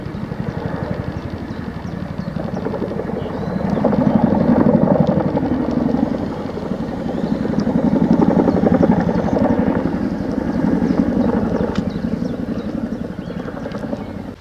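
A Chinook helicopter passes over countryside on a walk from Mortimer to Aldermaston Wharf, its heavy rotor thudding continuously, swelling louder twice as it flies overhead, with no talking.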